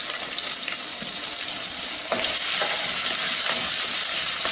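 Onion, green chili and tamarind frying in a pan with oil for a ridge gourd peel chutney, a steady close sizzle with occasional stirring scrapes running throughout, no voices.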